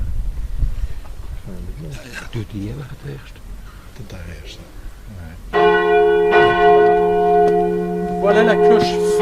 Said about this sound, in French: Voilà la cloche Fa. Marie.